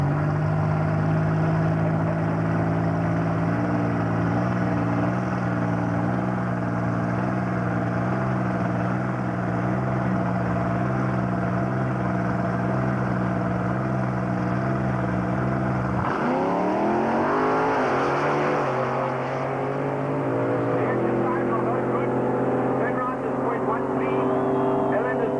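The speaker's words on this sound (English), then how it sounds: "Right-hand side is running a small block heavy V8 in that Sapphire. Left-hand side is running a V6 436 with a turbo and lights." Drag race between a Ford Sapphire with a heavy small-block V8 and a turbocharged V6 car at Tarlton: sustained loud engine drone that surges into a sharp revving launch midway, with a commentator talking over it.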